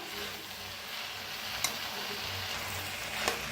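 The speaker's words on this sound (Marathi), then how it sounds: "तर मिक्स करून घेऊया भाजीला।" Finely chopped spring onion greens stirred in a hot pan, a steady sizzle with soft scraping and two sharp clicks of the spoon against the pan.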